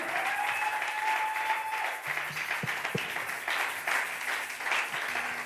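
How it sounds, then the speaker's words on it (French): A large church congregation claps steadily and evenly, a continuous wash of applause with faint voices mixed in. "We are putting our hands together."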